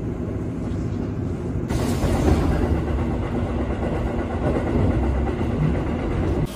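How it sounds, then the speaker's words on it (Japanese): A Japanese passenger train heading to Hakata, heard as a steady low rolling rumble that swells slightly about a third of the way in, then holds constant without any voices. "この列車で最後博多へ向かいます"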